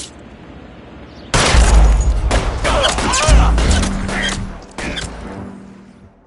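In the detective game L.A. Noire, a burst of loud gunshots erupts after a quieter stretch, heavy booming volleys with a second big blast a couple of seconds later, trailing into scattered shots and some voices.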